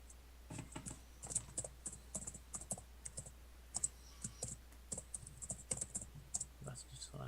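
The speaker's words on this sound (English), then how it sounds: "Are we all just typing a bunch?" Rapid, uneven typing on a computer keyboard, the key clicks close and crisp in clustered bursts, with faint voices speaking in the background.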